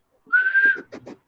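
A person whistles one clear sustained note, followed by a few short murmured sounds and breaths nearby, close and fairly quiet.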